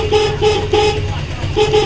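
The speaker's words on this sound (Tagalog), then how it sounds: "so ganyan din ba yung naging problema nyo sa inyong mga busina" A thin, weak Honda Click scooter horn that has lost its strength toots repeatedly in short bursts, a few quick beeps with brief gaps, loud and close.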